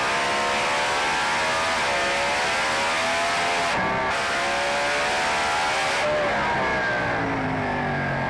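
Holden HQ Monaro drag race car driven by John Zappia, heard from inside the cabin: a loud, continuous engine roar that climbs steadily through the gears with brief shift breaks, no talking.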